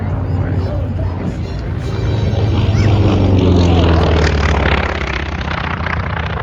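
A Grumman Wildcat propeller fighter flies past at an Oregon air show, a loud droning engine whose pitch sweeps as it passes, with a crowd and announcer talking over it.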